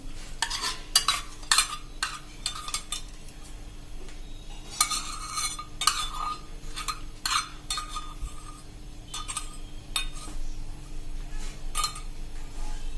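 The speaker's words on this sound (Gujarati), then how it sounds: "અને એને આપણે આ રીતે હલાવીને ગરમ થવા દેશું" Three-quarters of a cup of ghee warms in a pan while a spoon stirs it, giving repeated sharp metallic scrapes and clinks in irregular bursts over a faint low hum, close up, with no voices.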